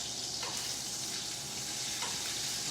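A mushroom and shallot mix fries in a pan with a loud, continuous hissing sizzle, broken by a couple of soft stirring scrapes, close up and with no talking.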